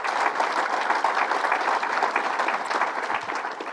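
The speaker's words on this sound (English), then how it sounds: "Give him a round of applause" Steady, dense applause from an audience at a Rochester event with Governor Cuomo, greeting Senator Joe Roback, sustained and even at a fairly loud level throughout without pause.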